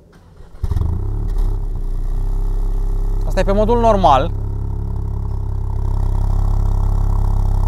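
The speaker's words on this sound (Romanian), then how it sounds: "V-am promis că vă arătăm cum sună motorul." A Ford Fiesta ST with a three-cylinder engine runs close by in its normal drive mode, holding a steady, loud, low idle throughout while someone speaks briefly over it.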